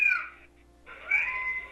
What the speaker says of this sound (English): all I heard was a bunch of whiny cats